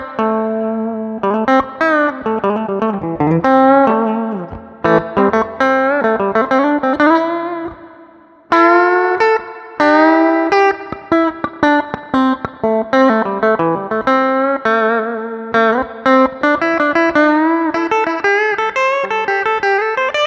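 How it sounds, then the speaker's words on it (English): A budget electric guitar played on its bridge humbucker pickup, with steady strummed chords and picked notes through a slightly driven, effects-tinged tone. The playing is loud and continuous, with one brief pause midway. "this is just on the humbucker, the bridge humbucker"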